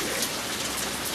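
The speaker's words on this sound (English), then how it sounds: "Did you want to play in the rain?" Heavy monsoon rain falling, a dense, steady hiss of drops on surfaces, close and unbroken through the brief moment.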